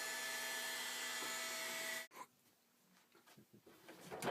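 A heat gun warms the front headlight lens cover of a BMW 3 Series E92 with a steady, close, hair-dryer-like blowing roar for about two seconds. It then cuts off abruptly, leaving faint handling clicks and rustles.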